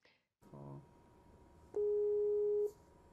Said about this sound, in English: We're gonna make a phone call, or a Skype call, excuse me, to North Carolina.